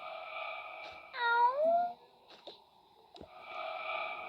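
A cat meows once clearly, a rising then falling cry, over a steady electronic tone and background music, with a few soft clicks.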